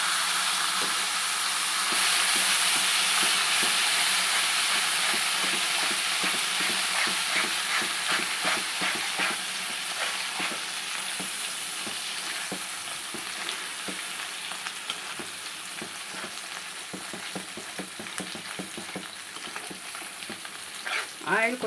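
Gongura chutney frying in plenty of hot oil for a prawn pickle, a loud continuous sizzle with stirring scrapes that gradually softens, no voices.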